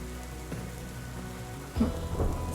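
Steady rain pours through a continuous broadband hiss, with a low rumble beneath and a couple of louder bursts near the end, at moderate distance and with no voices.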